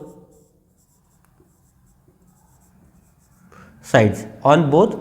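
Chalk or marker strokes on a board while a class 7 simple equation is worked, a few quick scratchy scribbles near the end after a quiet stretch, with faint speech.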